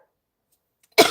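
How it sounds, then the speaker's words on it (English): A single sharp cough bursts out after a long stretch of near silence, loud and close at the very end. "yeah, that cough getting better"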